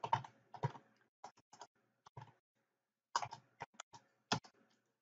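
Quick bursts of computer keyboard typing come close and clear in two clusters of clicks, with a short quiet gap between them and no talking.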